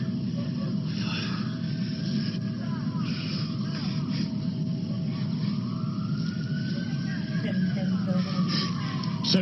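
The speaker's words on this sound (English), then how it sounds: "hearing those sirens in the background is sweet music to the ears" Emergency sirens wail steadily in the background, rising and falling over continuous road and engine noise for the whole stretch.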